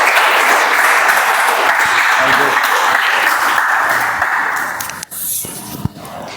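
Toastmasters meeting audience giving a new member a sustained round of dense clapping that fades out after about five seconds, followed by a few scattered sounds in a quieter room.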